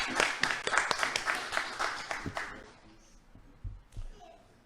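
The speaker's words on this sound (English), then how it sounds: "give a great applause to him as well" Audience clapping at a quiz competition award ceremony, a burst of scattered hand claps that fades out after a couple of seconds, leaving a few faint thumps and low background voices.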